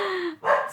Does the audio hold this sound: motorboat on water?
no